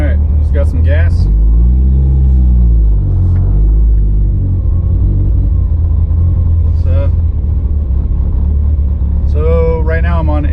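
A Mitsubishi Evo 8/9 drives with a loud, steady engine rumble and road noise throughout, heard from the cabin as someone talks over it intermittently.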